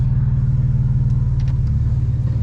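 A BMW 335is single-turbo car engine with a 3-inch exhaust idles with a deep, steady exhaust rumble, loud and close, holding an even throb throughout with no talking.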